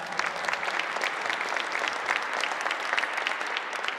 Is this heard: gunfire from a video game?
no